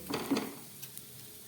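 Khichuri being stirred and fried in a pan: a couple of quick scraping stirs over a soft sizzle, then a brief, quieter tail with a light clink.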